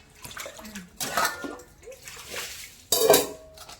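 Field crabs caught in a paddy get washed in water, with splashing, sloshing and clattering in quick bursts, close by, and voices heard briefly in the background.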